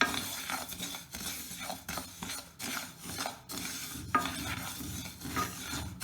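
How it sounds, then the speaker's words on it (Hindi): Sesame seeds roasting in oil in a pan over low heat, stirred constantly, giving repeated scraping, rasping strokes with a soft sizzle underneath, close and fairly quiet. "हमें तिल को धीमी आंच पर हल्का सुनहरा भूनना है। हमें इसे बहुत ज़्यादा नहीं भूनना है और इसको लगातार चलाना है।"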